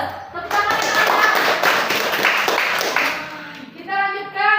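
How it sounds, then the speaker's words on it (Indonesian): A group of children in a classroom lesson clap hands together loudly for a few seconds, then the clapping stops and a voice follows. "Tepuk tangan anak-anak."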